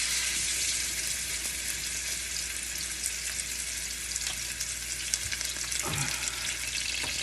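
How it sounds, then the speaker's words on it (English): Sirloin steak set into hot oil in a skillet gives a loud, steady, dense sizzle and crackle that runs throughout, with faint clinks of utensils toward the end. "After we have heated up our oil, I'm going to apply the steak onto the skillet."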